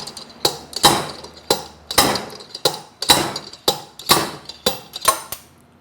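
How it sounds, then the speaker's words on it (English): A slide hammer works a blind bearing and bridge puller to extract a motorcycle wheel bearing. About a dozen sharp metallic clanks come at a steady, fairly quick rhythm, close and loud, with no talking. "Once we've got the bearing removed, we can take off our slide hammer."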